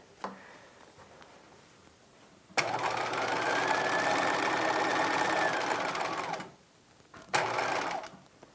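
A domestic sewing machine runs in one steady continuous burst stitching a circle skirt for a 1950s halter dress, loud and close, with a quiet lead-in and a shorter second run at the end.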